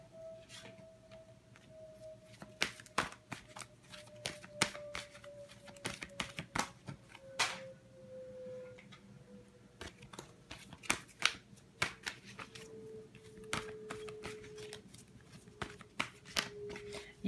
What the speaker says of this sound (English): Shuffle that just a little more.